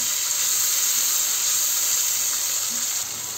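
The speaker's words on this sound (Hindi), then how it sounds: "अभी पेस्ट डालने के बाद में हम खूब अच्छे से इसको भून लेंगे" Tomato and onion paste fries in a pan with a steady, loud hiss and sizzle throughout, with no talking.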